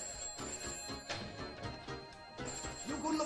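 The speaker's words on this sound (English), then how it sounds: "The phone's ringing." A house telephone rings in a TV comedy scene, with repeated ringing bursts under background music and movement.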